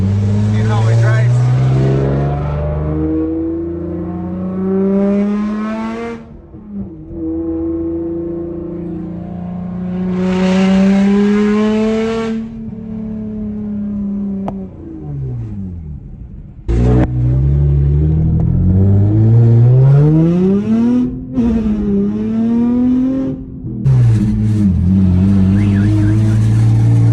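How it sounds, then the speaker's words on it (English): A Nissan 370Z sports car engine, treated with head gasket sealer, revs and pulls through the gears on a test drive, pitch climbing and dropping with each shift, loud and close from inside the car. "I'm gonna do a quick test drive"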